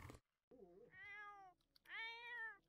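Pet cat in The Sims 4 lets out two drawn-out, whiny meows, the second louder and longer, close and clear with no talking around them.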